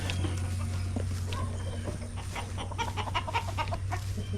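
Farm chickens clucking continuously at close range, a busy cluster of short clucks over a steady background hum, with no voices.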